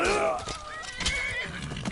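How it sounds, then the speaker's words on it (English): A horse in the Skyrim video game neighs and whinnies loudly, a long shrill call rising and falling over about two seconds, with faint hoof clatter and battle noise underneath. "That's a real horse."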